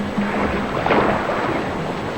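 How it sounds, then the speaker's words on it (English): Heavy rain pours during a flood, giving a dense, continuous wash of noise with a rumbling, thunder-like low end. It stays steady throughout, with no voices. "rain continues to fall, as long as the water continues to rise"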